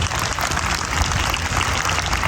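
A seated audience at an eighth-grade promotion ceremony applauds a student award, with dense, steady clapping throughout at moderate volume.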